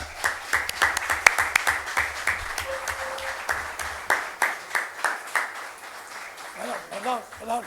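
Audience applause at a heritage conference, dense clapping that fades and thins over several seconds, followed by a voice speaking.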